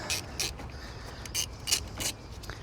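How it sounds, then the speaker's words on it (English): Socket ratchet clicking in short bursts while loosening the negative battery cable nut with a 10mm socket on a 2013 Honda Civic; several quick ratcheting strokes, close and fairly quiet. "Let's start by using a 10mm socket and removing the negative"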